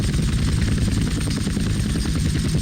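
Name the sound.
helicopter in video game GTA San Andreas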